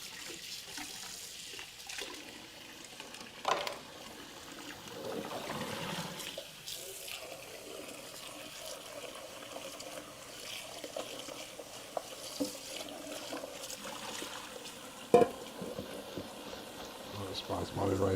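A pot crusted with stuck basmati rice is scrubbed under a running kitchen tap, a steady wash of water with occasional clanks and scrapes, fairly quiet throughout.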